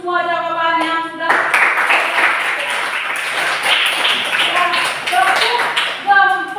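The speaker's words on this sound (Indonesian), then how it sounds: "Mari kita tepuk tangan untuk semua jawaban yang sudah" Classroom clapping from a group of pupils, a steady burst of hand claps with voices talking and calling over it throughout.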